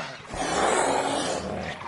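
A large wild cat roars on command in the video game Robinson: The Journey, a single loud, sustained growling roar that swells and fades over about two seconds, close and alone.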